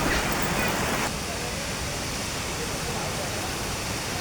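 A risky waterfall at Vangani roars as a dense, steady wash of falling water, loud and close, with a faint voice in the first second.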